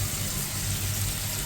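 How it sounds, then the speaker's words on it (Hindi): A short burst of water gushing steadily, close by, poured into a pan of frying tomato paste. "थोड़ा इसको ये क्लियर करके पानी दे देता हूँ इसमें।"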